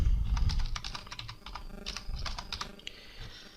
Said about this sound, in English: I'm going to type my username